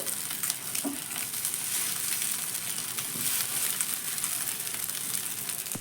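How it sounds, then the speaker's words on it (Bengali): Tiffin pieces frying in hot oil in a pan, a bright continuous sizzle with small crackles and a few soft clinks, close and steady with no talking. "তেলটা গরম হয়ে গেছে এবার একে একে টিফিনগুলো তেলের মধ্যে এইভাবে দিয়ে দিচ্ছি"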